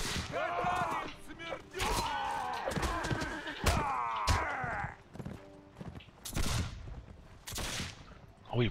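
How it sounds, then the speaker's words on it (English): Gunfire in the Mount & Blade With Fire & Sword video game comes as scattered shots and bursts among game voices and hoofbeats, at a moderate level. "Who's shooting?"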